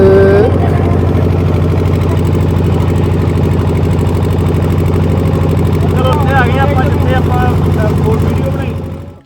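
Steady, loud boat engine droning nearby as the boat moves along water near Nangal, a constant hum throughout with faint voices in the background.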